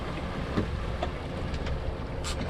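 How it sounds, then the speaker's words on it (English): A sailboat motors slowly under engine power while fishing offshore, a steady low drone mixed with wind noise on the microphone and faint water sounds throughout. "Good thing today about motoring is that I can actually slow down."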